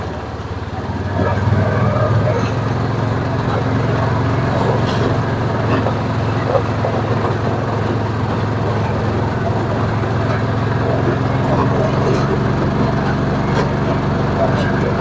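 A vehicle's engine drones steadily and close by as it backs in reverse into Sesquicentennial State Park, a continuous low rumble lasting throughout.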